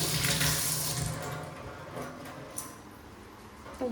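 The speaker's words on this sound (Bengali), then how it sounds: "এই যে তেজপাতাটা ধুয়ে রেখেছি, একটু ধুয়ে নিই" Tap water runs while bay leaves are rinsed in a home kitchen, a steady rushing splash that is loudest at first and then settles into a quieter trickle, with no talking.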